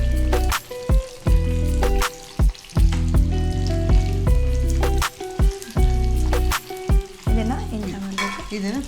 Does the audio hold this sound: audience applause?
no